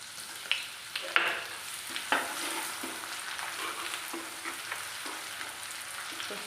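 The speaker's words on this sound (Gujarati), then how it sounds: "હવે લાલ મરચું નાખીશું।" Red chili hitting hot oil already holding cumin and garlic, giving a bright sizzle with a few sharp crackles and spoon stirring scrapes near the start, then a steady fry.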